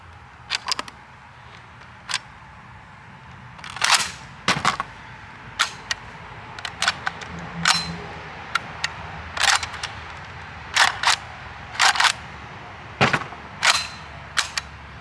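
A JTS AK 12 gauge semi-automatic shotgun fires at a shooting range. About a dozen loud, sharp reports come one by one at uneven intervals, some in quick pairs, with pauses between.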